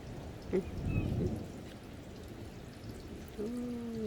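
Steady rain falls with a broad, even hiss, and a low rumble of thunder rolls through early on. Faint tonal sounds appear near the end, with no voices.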